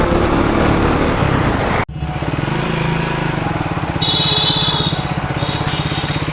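A Triumph Speed 400 motorcycle with traction and key immobilizer problems runs with a steady, rapid engine thrum, briefly cutting out before picking back up into an even idle-like pulse.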